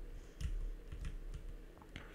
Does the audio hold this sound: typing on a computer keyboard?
yes